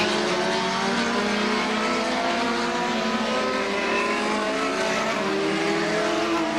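Race cars at Star Speedway in 1991 roaring around the track in dense, continuous engine drone with shifting pitch as cars pass, loud and unbroken throughout with no audible talk.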